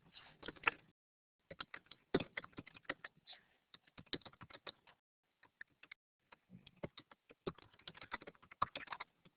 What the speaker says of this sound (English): Just let me type something into Kate.